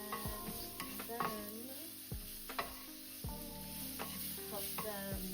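Leeks and spices sizzle steadily in a hot pan while a utensil stirs them, with scraping clinks of the utensil against the pan recurring every second or so, close up and fairly loud with no talking.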